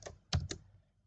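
A few quiet keystrokes on a computer keyboard while entering a formula in Excel, three separate close taps within about half a second, then silence.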